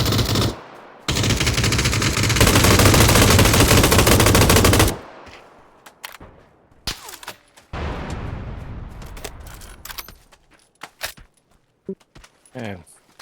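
Rapid automatic gunfire in a shooter video game, loud sustained bursts for several seconds followed by scattered single shots and quieter game noises.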